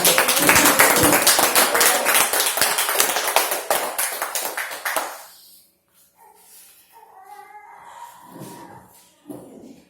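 A church congregation claps during a worship service, with dense, loud rapid applause for about five seconds that then fades out into quieter sounds.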